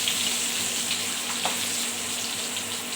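Garlic fries in hot oil, producing a steady, moderately loud hissing sizzle throughout with a faint stir partway through and no voices.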